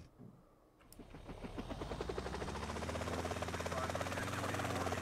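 A helicopter in GTA San Andreas Definitive Edition spins up from a quiet start into a steady, loud rotor thrum with rapid rhythmic chopping that holds to the end.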